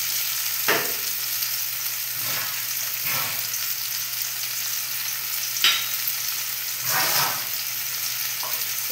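Tomato with a little salt fries in a pan for chili paneer, a soft steady sizzle broken by several scraping stirs of the spoon at irregular intervals.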